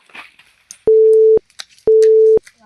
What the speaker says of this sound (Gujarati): અશ્વિન વીસ વાર ફોન લગાડ્યો પણ ફોન નથી ઉપાડતો